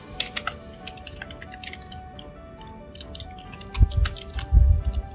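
Code is typed on a computer keyboard in bursts of close, crisp key clicks, followed by a few heavier thumps, likely keys struck harder, near the end.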